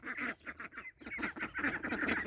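Ducks quacking noisily and almost nonstop, a dense overlapping chorus of loud nasal calls on a poultry property, close by with no talk.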